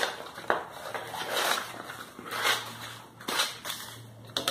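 Scissors or a craft knife cutting away excess laminated paper from an acetate cake topper with a gold name, giving a series of close crisp snips and crunchy cuts with short pauses between them.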